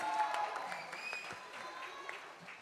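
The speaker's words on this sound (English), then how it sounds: "give him a round of applause, ladies and gentlemen" An audience claps at a film trailer launch event, a moderate crowd applause that holds steady and then gradually thins, with faint voices underneath.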